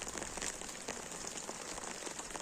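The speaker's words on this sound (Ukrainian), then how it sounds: "Сьогодні вже взяла парасолю, вийшла трохи під дощ." Steady rain patters continuously on a surface outdoors during a rainy spell in Canada, a dense hiss with scattered close drop ticks, moderately loud and with no voices.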